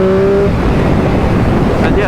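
A Triumph Speed Triple 1050 motorcycle engine roars loudly and steadily under hard acceleration, mixed with heavy wind rush, with a voice speaking over it.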